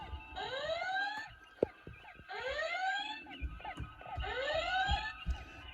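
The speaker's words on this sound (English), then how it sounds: "We're going to do the alarm." Playmobil Star Trek USS Enterprise toy plays an electronic alarm effect: three repeated rising whooping sweeps, fairly close, with small handling clicks and taps between them.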